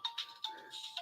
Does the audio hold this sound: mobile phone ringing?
yes